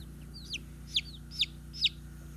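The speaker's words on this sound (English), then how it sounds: "There's a chicken." Farm chickens cluck in four short, evenly spaced rising calls, close and clear over a steady low background hum.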